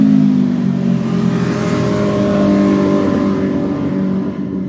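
A motorcycle engine revs loudly and close, a steady rough drone with a rising and falling throttle that holds for several seconds before easing off slightly at the end.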